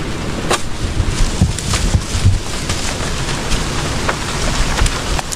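Heavy typhoon rain pours down outdoors, a steady dense hiss with scattered sharp drops and gusty wind noise buffeting the microphone throughout.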